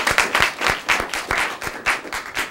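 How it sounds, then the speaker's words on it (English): An audience at a New Orleans interview event claps for a guest, with sharp, fairly regular claps from a small group sounding close and distinct. "How about we give a round of applause for our first guest, Soledad O'Brien."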